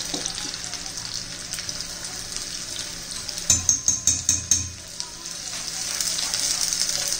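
Onion, curry leaves, cumin and green and red chillies sizzle steadily in hot oil for dahi tadka, with a short run of stirring knocks in the middle and the fry hiss swelling again afterward; no one talks.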